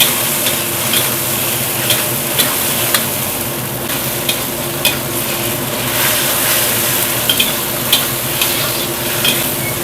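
Mushrooms with sweet soy sauce, broth and salt sizzle in a pan, under a steady low hum and regular clicks of a utensil stirring and tapping against the pan. No voices are heard.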